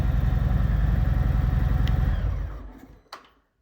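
A 2018 Harley-Davidson Road Glide with Vance and Hines exhaust and a slight exhaust leak idles with a low, rapid, throbbing rumble that runs steadily, then winds down and cuts off, followed by a brief clunk.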